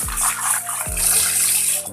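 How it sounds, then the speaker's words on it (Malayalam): Water pours and splashes over kili meen fish being rinsed clean in a vessel, a close, continuous gurgling rush with a couple of sharp splashes. "ഇങ്ങനെ ഒരു 4-5 തവണ നല്ലപോലെ കഴുകി വൃത്തിയാക്കി എടുക്കുക"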